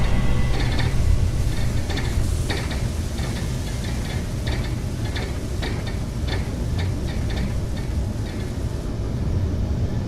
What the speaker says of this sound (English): Once everything is fired, everything retracts back into place.